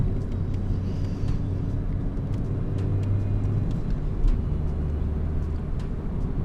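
A stock, mint-condition Daewoo car with brand-new tires driving along a narrow road, heard from inside as a steady low engine and road rumble with continuous tire noise, no talking.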